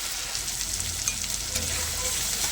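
A ginger, garlic, chilli and onion paste fries in oil for a chicken curry, making a brief, close, continuous sizzle with small crackles and stirring scrapes.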